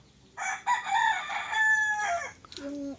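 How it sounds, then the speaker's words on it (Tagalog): A rooster crows loudly and close by, one long drawn-out call, followed by a short higher cluck at the end. "manok."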